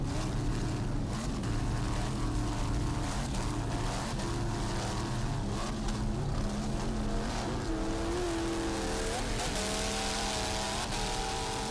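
Offshore racing powerboats, including a 27-foot boat, roar past at full throttle, engines whining and shifting pitch as they rise and fall over water, loud and continuous.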